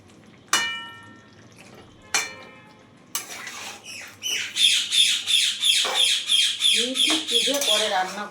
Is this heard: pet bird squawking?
yes